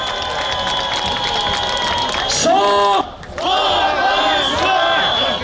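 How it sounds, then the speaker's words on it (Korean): A crowd at an outdoor election campaign rally cheers and shouts with loud, sustained whooping and clapping. Voices swell in waves, briefly dip, then surge again. "뜨거운 박수와 함성 보다 드리겠습니다"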